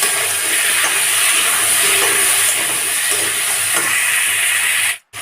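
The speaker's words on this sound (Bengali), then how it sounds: "এবার আলু পটল দুটোকে আরেকটু ভেজে নিই" Potatoes and pointed gourd fry in oil in a pan with a steady, loud, broad sizzle that holds evenly throughout before cutting out abruptly near the end.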